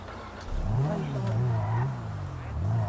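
A car engine in GTA around Los Santos hums and revs up and down in a steady drone, with someone talking over it.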